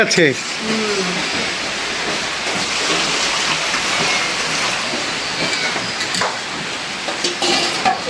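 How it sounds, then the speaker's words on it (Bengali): A steady, broad hiss of rain pours continuously, dense and fairly loud, with faint voices underneath. "বৃষ্টি বলতে বলতে বৃষ্টি এসেই"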